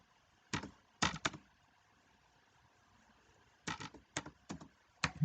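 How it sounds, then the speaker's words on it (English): Someone types an email on a computer keyboard in short bursts of quick, close key clicks, separated by quiet pauses. "so I'm typing my email."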